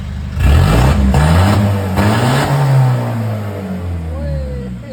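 A 2019 Nissan Navara NP300 pickup with a six-speed gearbox revs hard several times, its engine roaring up and down close by with a loud, throaty tone, while voices talk over it.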